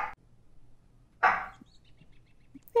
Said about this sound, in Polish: No ale piesio.